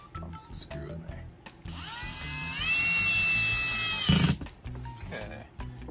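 A power drill on a low clutch setting drives a screw while installing shelving, whirring for a couple of seconds, rising in pitch, then stopping with a brief thunk, with clattering and speech before and after.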